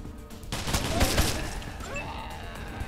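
Gunfire in the Wasteland 2 beta: a quick cluster of loud shots near the start, then a fading tail with faint game tones, with a voice talking briefly over it.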